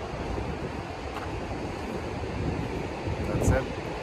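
Surf at San Onofre State Beach in California: a steady wash of waves with rushing wind noise throughout, and a slightly stronger surge near the end.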